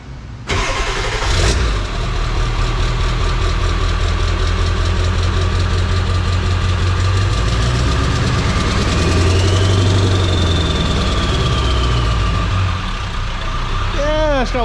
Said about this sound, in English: We're about ready to hear this new exhaust.